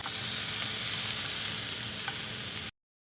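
Tomatoes sizzle in a hot frying pan with Cajun seasoning, a steady close crackling hiss lasting a few seconds before cutting off abruptly, with no voices.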